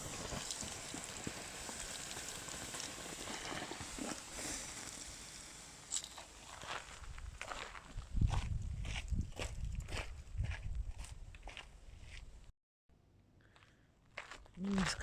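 Footsteps crunch through a forest floor near a smouldering campfire, a steady walking rhythm of scuffs and snaps at close range, with a brief pause and people talking intermittently over them.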